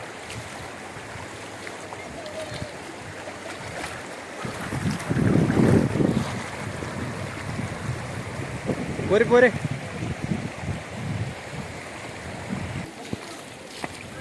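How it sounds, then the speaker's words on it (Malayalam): Fast-flowing flash flood water rushing through Jebel Akhdar, Oman after fresh rain, a continuous churning wash that swells louder midway, with a voice speaking briefly over it. "നല്ല ഒഴുക്കുള്ള വെള്ളം."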